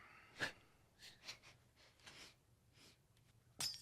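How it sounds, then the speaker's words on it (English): A single quick sneeze near the start, then soft breathy sounds and a sharper burst at the end, all fairly quiet. "It was just a sneeze"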